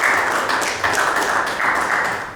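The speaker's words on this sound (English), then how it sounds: "A loud applause for Mr. Dempo," A hall audience at a trophy and jersey unveiling ceremony claps for a guest being called on stage, a loud, steady wash of applause throughout with small swells in intensity.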